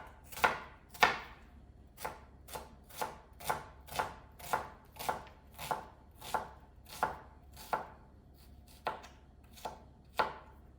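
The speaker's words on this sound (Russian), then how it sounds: "Итак, сейчас нам нужно измельчить наши овощи, фрукты на небольшие кусочки, приблизительно 5-7 миллиметров." Vegetables and fruit for pineapple salsa are chopped on a cutting board: about twenty sharp, evenly spaced knife strikes, close and clear, with no talking.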